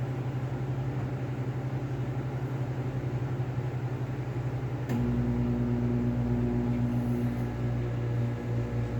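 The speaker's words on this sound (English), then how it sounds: "because the microwave is going to be on." A household microwave oven runs steadily with a constant low hum and whirring drone, joined midway by a louder, brighter tone as it continues, heating homemade macaroni and cheese in a kitchen.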